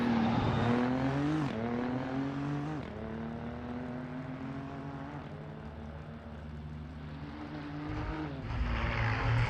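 BMW race car in the racing video game Assetto Corsa, a loud engine droning and revving up and down through several gear shifts, with a final surge of acceleration at the end and no talk.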